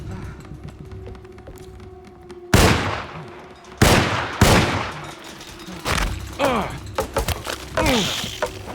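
Gunfire in Alone in the Dark (2008): after a quiet start, loud, sharp shots ring out one by one, then faster bursts of shots and crackling impacts follow in an uneven rhythm.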